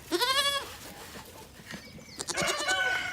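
Several goats bleat loudly at close range on a spring homestead, wavering calls rising and falling in two bursts separated by a brief quieter gap with faint rustling, no talk over them.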